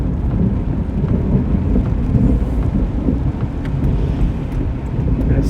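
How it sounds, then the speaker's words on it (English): Thunder from a thunderstorm over Western, Massachusetts rolls as a continuous deep rumble for several seconds, mixed with rain and wind buffeting the microphone. "can hear some of the thunder"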